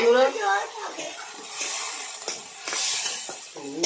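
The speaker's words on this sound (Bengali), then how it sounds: "ফটফট করে সবই ফুটছে" Poppy seed paste curry for rohu fish, with cashew and raisin paste and added water, bubbling and hissing steadily in a pan, with a voice talking at the start and end.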